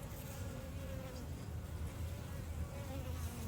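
Honey bees buzz steadily around an open hive during an inspection, a dense continuous drone that holds at an even level from start to finish with no talk over it.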